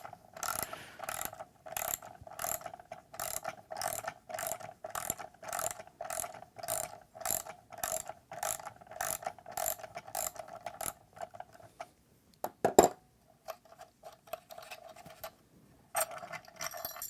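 Steady, evenly spaced ratchet clicks loosening a stainless nylock nut on a 1/4-inch stud of a DIY solar generator, a long rhythmic run of crisp clicks, then a pause, a sharp clank and a few more clicks.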